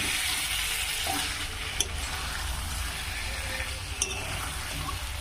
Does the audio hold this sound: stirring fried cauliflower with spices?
yes